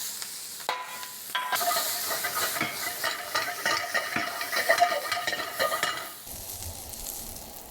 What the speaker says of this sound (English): Now, I take my veggie, my garlic, my onion, my scallion bottoms, all going in.